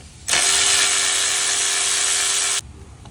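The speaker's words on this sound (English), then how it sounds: "Pull the bolts out." Power ratchet spinning out the ignition coil bolts on a car with a misfire: one loud, continuous buzzing whir lasting about two seconds, close up, then cutting off sharply.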